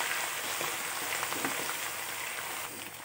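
Sliced onions frying in a karahi with garlic-ginger paste just added, for a Shinwari qeema karahi: a dense, steady, loud hiss and crackle of hot oil, continuous throughout with no talk.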